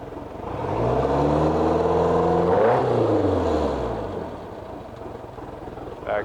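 The 3.0L Volvo Penta engine of a 1995 Crestliner boat is shifted into forward gear. The motor hums at idle, swells to a louder drone, then eases back down, near and alone, with a short knock at the end.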